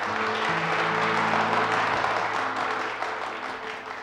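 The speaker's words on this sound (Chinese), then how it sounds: "听到 boss 般的掌声了吗？" Warm, steady applause from a group of people, dense clapping that holds fairly level and fades slightly toward the end, with a low hum of music underneath.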